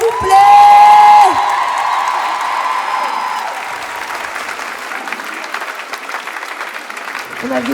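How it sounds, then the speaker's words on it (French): A large crowd at an event in the Palais de la Bourse in Bordeaux breaks into loud applause and cheering, with a whistle near the start, then a steady wash of clapping and whoops that continues to the end. "Donc un maximum de bruit pour Baptiste, s'il vous plaît!"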